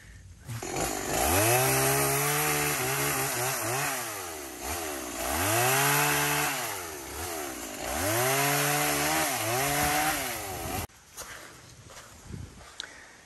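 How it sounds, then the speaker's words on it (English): A chainsaw cuts a tree on a farm in Thailand, loud and close, its engine pitch repeatedly bogging down and revving back up as it bites through wood, then cutting off abruptly near the end. "good that he did bring the chainsaw"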